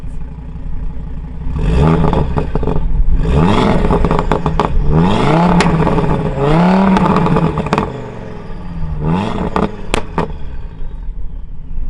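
A car engine revs hard several times in sport drive mode, against a soft limiter, each rev climbing sharply and dropping back, loud and near, with a rough, clattering edge.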